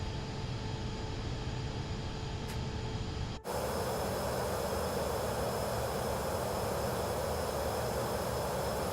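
A steady broadband jet roar from a Pilatus PC-24 climbing after takeoff in Microsoft Flight Simulator 2024, with a brief dropout partway through before the engine noise returns stronger and brighter, continuous and alone.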